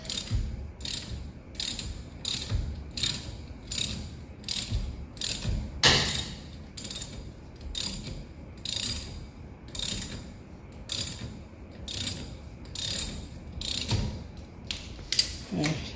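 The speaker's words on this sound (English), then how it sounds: "we're just using that puller, and there we go, it's starting to come. That bearing's moving a little bit." A bearing puller working a billet driveshaft bearing loose on a 1971 Chevy truck, giving steady rhythmic ratcheting clicks repeated about once per second, close and clear with no talking.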